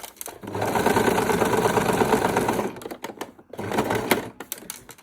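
A sewing machine stitches a zipper, running steadily for about two and a half seconds, then stops and resumes in short, uneven bursts with brief pauses between.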